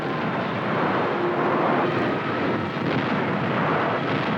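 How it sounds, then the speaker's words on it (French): American bombers pound Japanese air defences at the Chuuk Lagoon base, a dense, continuous roar of aircraft engines and rumbling blasts that holds loud and steady throughout with no talk. "Les bombardiers américains commencent par pilonner la défense aérienne japonaise"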